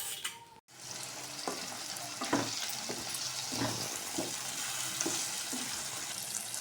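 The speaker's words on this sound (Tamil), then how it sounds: "இந்த மாதிரி நல்லா மிக்ஸ் பண்ணிக்கோங்க" A gooseberry pickle mixture is stirred in a pan, with soft sizzling under a run of scraping, clicking strokes from the spoon at an uneven rhythm, fairly quiet and close.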